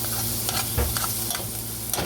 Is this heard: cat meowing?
no